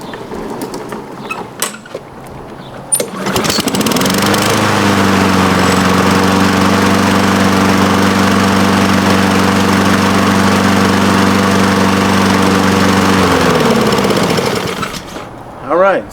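A Honda walk-behind lawn mower is pulled and starts after blade sharpening, settling into a loud, steady engine drone for about ten seconds before cutting off; a few clanks and handling noises come before it.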